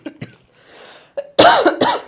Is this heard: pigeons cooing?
no